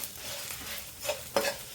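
Mustard seeds and cumin stir in a hot pan, a faint, soft sizzle broken by a couple of brief scraping strokes near the end, with no talking.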